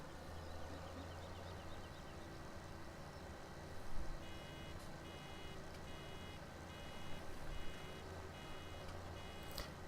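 Faint, evenly spaced electronic beeps sound from a filling tank on a farm machine in Farming Simulator 17, over a low steady engine drone.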